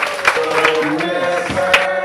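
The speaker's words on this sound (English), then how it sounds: "Clap them again." Wedding guests clap in a short burst of scattered, close hand claps, mixed with crowd murmur and a voice.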